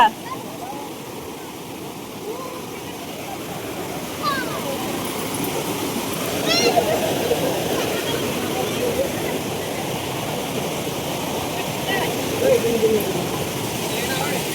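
Fast-flowing stream water at Vashistha temple in Guwahati rushes loudly and steadily close by, a dense continuous roar with splashing, while voices talk faintly over it.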